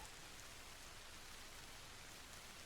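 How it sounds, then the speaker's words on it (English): Rain in the video game Arma Reforger: a steady, faint hiss of downpour spread evenly across the whole stretch, with no voices over it. "It is raining like no tomorrow right now"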